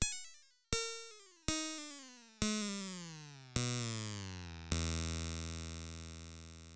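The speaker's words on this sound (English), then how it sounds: "you should get a buzzing sound like this." Synthesized buzzing tones from a parallel comb filter delay, used for building cymbal and hi-hat sounds: six separate struck, pitched buzzes that each decay quickly, with each one dropping lower in pitch and ringing longer than the last, ending in a long sustained drone.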